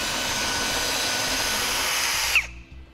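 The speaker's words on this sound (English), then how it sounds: "using a 1/2 inch drill bit, I'm going to enlarge my holes." A power drill with a 1/2 inch bit bores through the frame of a 2013 Smart fortwo, a steady high whine for over two seconds, then a brief bite as it breaks through and spins down, close and loud.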